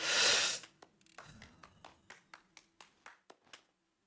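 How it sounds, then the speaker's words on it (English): A lone person clapping slowly in a video game, The Witcher 3: Wild Hunt, about a dozen separate claps in a loose rhythm, following a brief burst of noise at the start. "Somebody just applauding."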